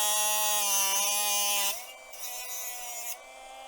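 A small powered cutting tool whines through metal pieces for a mod chassis build, a steady high buzzing tone that drops in pitch partway through as the blade bites, then keeps running more quietly until near the end.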